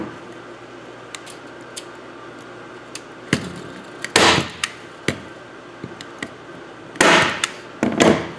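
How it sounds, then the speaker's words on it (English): A staple gun drives staples through wire into a wooden base, giving several sharp snapping clacks spaced irregularly, with a few louder clustered shots near the end, close against a quiet room hum and no talking. "you're gonna be taking the staple gun and press it right onto the X"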